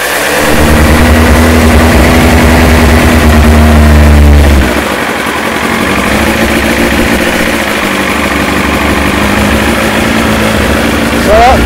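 Kawasaki ZX9R motorcycle engine running on choke after a carburettor fix: a loud, steady high idle that drops abruptly midway and settles into a lower, rougher idle, with a voice heard over it.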